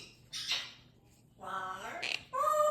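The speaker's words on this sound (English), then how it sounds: "And I hope the birds aren't too loud." Bird squawks and harsh calls in short bursts, separated by quiet gaps, fairly close and moderately loud.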